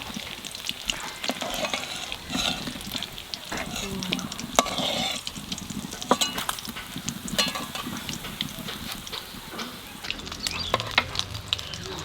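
Padma hilsa fish fries in hot oil, a steady dense sizzle and crackle close up, with occasional stirring and spatula scrapes throughout and no talking.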